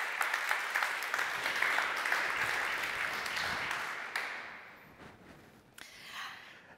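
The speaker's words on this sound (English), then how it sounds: "A big round of applause" An audience at a museum symposium applauds a first responder, a dense round of clapping that fades out over several seconds, with a brief bump of noise near the end.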